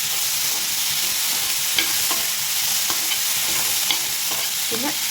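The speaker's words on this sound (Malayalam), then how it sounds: "ഇതിലേക്ക് ആഡ് ചെയ്തിട്ട് കുറച്ച് നേരം നന്നായിട്ട് ഒന്ന് ഇളക്കി കൊടുക്കുക" Onion and garlic fry in a pan with a steady hiss while a spoon stirs them, leaving scattered light scraping clicks over the sizzle, close and fairly loud with no voices.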